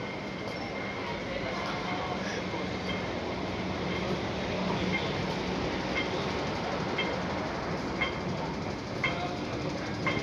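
An MTR train at Tin Shui Wai, Hong Kong, rumbles as a steady rail drone over a full length of time, with background voices and station noise mixed in.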